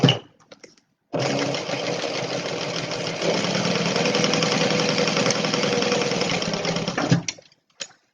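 Sewing machine edge stitching a Stella Weekender bag: a loud, continuous fast-running whir lasting several seconds, bracketed by short clicks and handling noises before and after.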